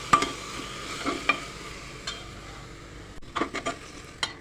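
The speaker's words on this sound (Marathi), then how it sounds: "टोमॅटो कांदा छान असा भाजत आहे" Tomatoes and onions frying in a pan, a soft sizzle under repeated sharp scrapes and clinks of a spoon stirring against the metal, irregular and close.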